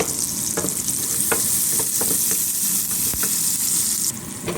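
Onion and garlic sautéing with ground beef in a pan, a loud continuous sizzle with occasional scraping and stirring clicks from a utensil.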